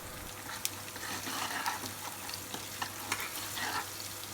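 Mustard seeds, chopped ginger, green chili, asafoetida and turmeric fry in hot oil for a tempering, giving a steady close sizzle with scattered sharp crackles and pops and occasional stirring scrapes.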